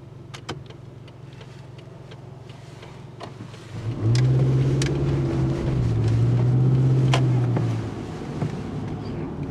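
An older car's engine hums steadily in the cabin, with a rising drone and a few faint knocks and clanks while driving and stopping.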